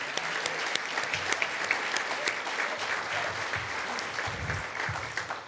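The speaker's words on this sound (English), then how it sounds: "how about a huge round of applause for the GRCC Guitar Ensemble, directed by Jonathan Marshall." Audience applause for a college guitar ensemble at an evening campus event, a steady dense clapping from a sizable crowd filling the room for several seconds with no voices over it.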